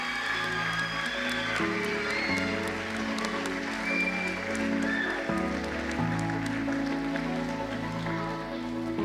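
An audience claps at the Akranes Athlete of the Year 2019 awards ceremony. Steady crowd clapping continues for about nine seconds over music playing in the hall.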